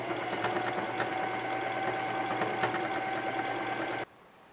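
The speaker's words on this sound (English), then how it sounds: "I'm going to finish sewing this, top stitching this" Sewing machine running steadily while top stitching a fleece hat with a stretchy decorative stitch, a fast even mechanical whir with rhythmic needle ticking that stops abruptly near the end, leaving quiet.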